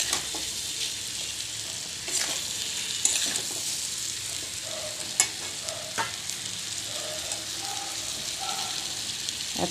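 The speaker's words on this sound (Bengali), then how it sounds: "জ্বেলে মিডিয়াম টু লো আঁচে আস্তে আস্তে নাড়তে থাকবো।" Amla pickle stirred in a pan over medium-low heat, a steady soft sizzle with scattered scraping clicks of the spoon, moderately close and without voices.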